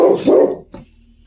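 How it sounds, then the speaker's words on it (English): A single sharp dog bark rings out right after a burst of noisy sound, close by and fairly loud, then fades into quiet. "That's my dog barks like crazy."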